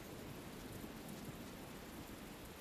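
Rain in the video game Tales of Berseria, a soft, even hiss of falling rain held steady for a few seconds, quiet and alone with no talk.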